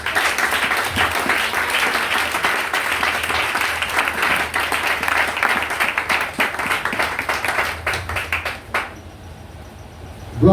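A church congregation gives sustained, enthusiastic applause to praise the Lord, a full room of clapping hands rolling continuously for several seconds, then dropping away abruptly into near quiet.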